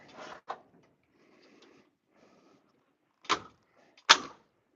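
A 1963 Chevrolet Impala door with very tight weather stripping and an adjusted latch is shut several times. Sharp thuds and latch clicks come near the start and in two solid slams toward the end, with quiet gaps between.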